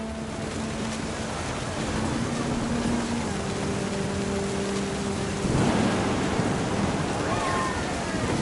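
Storm rumble from What Remains of Edith Finch: steady rain and low thunder roll throughout, swelling into a heavier, closer crack near the end, with a low musical drone underneath.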